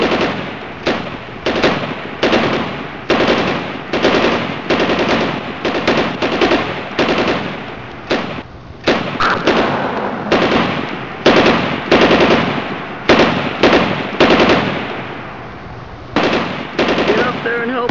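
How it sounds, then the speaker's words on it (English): A machine gun lays down covering fire in an Army Men battle: loud, sustained bursts repeat one after another with short gaps for about eighteen seconds. "Some covering fire."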